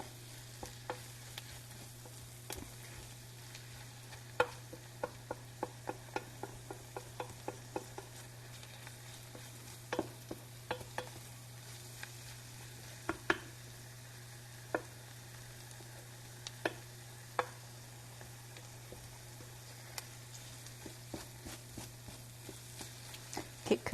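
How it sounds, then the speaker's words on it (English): Flour gravy thickening in a pan while being stirred, with a low steady sizzle and frequent scattered scrapes and ticks of a utensil against the pan, close up with no talk. "Keep cooking and stirring that"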